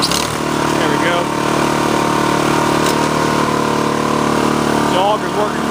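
A Toro Power Clear 518 ZE snowblower engine runs steadily with its auger turning, a continuous loud mechanical drone with faint voices underneath.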